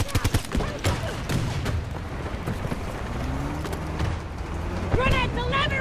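Small-arms gunfire in the video game Battlefield 2042, a dense rattle of rapid shots close and far, with sharp bursts at the start and more firing near the end, over constant battle noise while a player talks throughout.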